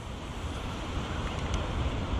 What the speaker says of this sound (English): Yeah, it's windy, but it can still manage it when you pull up the throttle.